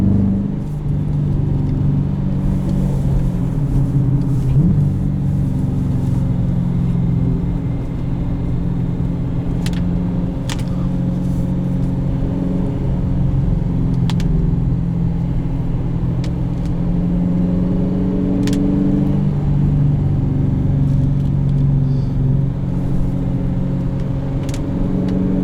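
A 2018 Dodge Challenger Shaker with a 5.7 V8 and manual gearbox drives along, its engine giving a steady, loud low rumble from inside the cabin that rises and shifts in pitch as it pulls and changes gear.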